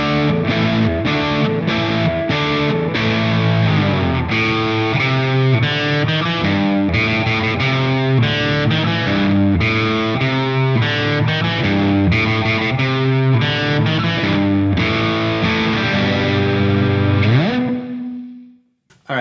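Gibson Les Paul Custom, a 2005 Jimmy Page Number One model, played on its bridge pickup through a dirty amp modeler: loud, continuous distorted riffing with shifting chords for about seventeen seconds, ending on a held note that cuts off.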